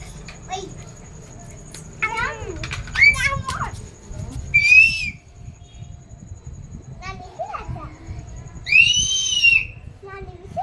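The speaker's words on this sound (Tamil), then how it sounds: "விசில் அடிக்கிறாங்க" People whistle in short, high-pitched bursts, two of them standing out clearly, amid children's chatter and other talking in a homely setting.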